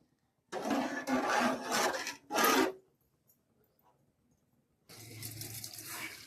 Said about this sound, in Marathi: आता आपण यामध्ये पाणी टाकून घेऊया